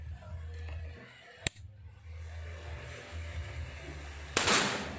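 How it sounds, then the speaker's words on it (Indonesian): Two sharp shots from a Marauder Titan OD 38 PCP air rifle during an accuracy test, one near the middle and a louder, longer one near the end, over a low steady outdoor hum. "2 kali tembakan."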